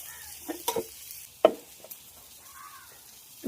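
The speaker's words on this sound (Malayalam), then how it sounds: "അപ്പൊ മീൻ വറുത്തത് ഏകദേശം സെറ്റായി" Fish fries in a pan at home, a faint sizzle broken by a few close scrapes and clanks of a utensil turning the pieces, with quiet gaps between them and no voices.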